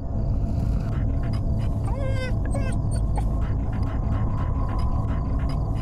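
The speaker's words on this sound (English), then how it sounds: "Oh, it's a dog I'm hearing snoring." A dog in the horror video game Fears to Fathom whimpers and whines in short rising cries over a constant low ambient rumble, fairly close and with no talking heard.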